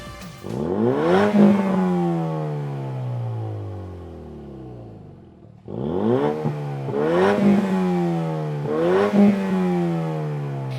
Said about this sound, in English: If you want more volume and more sound, there's always the Flowmaster Outlaw series axleback.